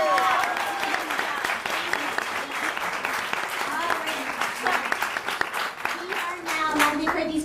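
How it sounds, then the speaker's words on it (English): A large audience gives sustained applause after presentations at a judged showcase event, a thick continuous mass of clapping that stays steady throughout, with scattered voices and a few whoops mixed in. "One giant round of applause for these."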